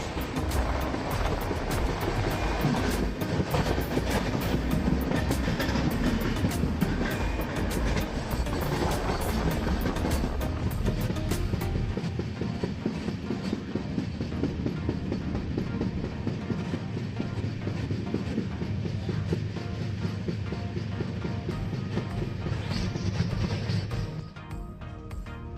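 The Goa Express (12779) rolls from Madgaon toward Belagavi near Dudhsagar on a ghat section with banker locomotives, a loud continuous rumble of wheels and carriages heard from onboard, steady throughout and fading slightly at the end.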